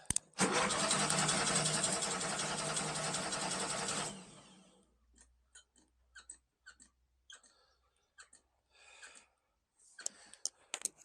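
A trike engine turns over on its starter for about four seconds, a loud, steady churning crank while the distributor is being adjusted. It then stops, leaving faint scattered clicks and knocks.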